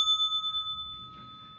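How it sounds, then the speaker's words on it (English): A single small bell used to signal incoming calls rings once, clear and ringing with a quickly pulsing shimmer that fades over about a second, in an otherwise quiet room. "I hear a bell"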